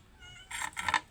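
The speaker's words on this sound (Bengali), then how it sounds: "বিড়ালগুলো মাছ কাটতে বসলেই বাস বিড়ালগুলো মিউ মিউ করতেই থাকে।" A domestic cat meows twice in quick succession, close and fairly clear, in a kitchen where fish is being cut, with faint room noise in between.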